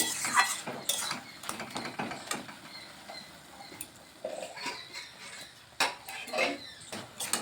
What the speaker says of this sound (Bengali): ভালোভাবে চিনিটাকে দিয়ে মিশিয়ে নিচ্ছি